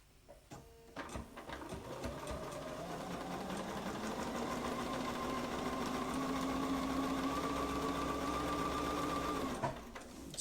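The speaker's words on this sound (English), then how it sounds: "Sew the seam." A sewing machine stitches a seam on a romper with a steady, close mechanical whir that runs unbroken for about nine seconds before it stops.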